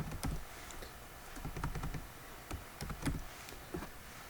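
Names being keyed into Minitab on a computer keyboard, with close, irregular clusters of key clicks over a quiet room background.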